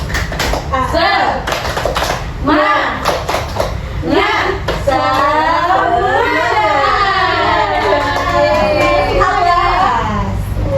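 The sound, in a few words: children's rhythmic clapping chant in a classroom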